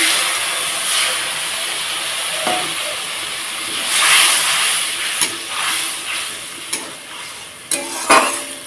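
Spiced masala paste with Kashmiri chili powder hissing and sizzling in a pan after a splash of water goes in, a steady close frying hiss broken by a few scraping stirs, with no talk.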